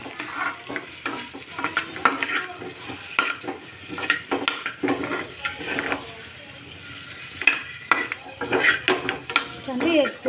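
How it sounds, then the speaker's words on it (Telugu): Eggs fry in hot oil in a pan for an egg masala curry, with soft sizzling under repeated scraping and stirring strokes and clinks of a utensil against the pan, close and steady throughout. "ఇలా ఆయిల్లో మనం ఎగ్స్ని వేయించుకోవాలి."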